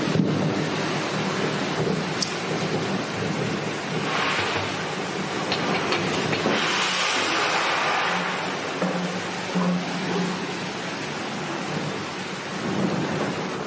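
A thunderstorm with heavy rain and wind recorded outdoors: a dense, loud, steady roar of rain with rumbling thunder swelling through it and no voices.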